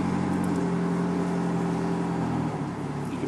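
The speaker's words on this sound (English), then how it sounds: "You can hear it running right now." A fuel-injected outboard boat motor idles steadily in neutral with a constant mechanical hum and whir, close and fairly loud, with no talking.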